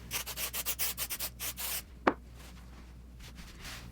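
Hands rub and smooth quilt layers flat on a tabletop while basting, making a run of soft rhythmic brushing strokes followed by a single sharper scrape, close and fairly quiet.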